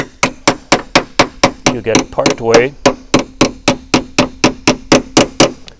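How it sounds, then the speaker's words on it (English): A hammer strikes a pin into a bracket on a Mercedes R129 SL tonneau cover, sharp metallic blows at a steady, even rhythm, about three per second, close up, with someone speaking briefly midway. "Let's try the hammering first."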